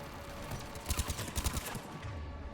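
A short burst of rapid gunfire in Mass Effect 3 during a Cerberus attack, about eight quick reports in a row, moderately loud over a steady background din.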